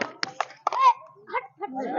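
Children clap a few times at a balloon-popping game, short separate claps mixed with close kids' voices and chatter.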